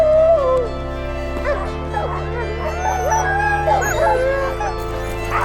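A pack of sled dogs howls, yips and whimpers together in a long overlapping chorus, loud and close, with a steady low hum running underneath.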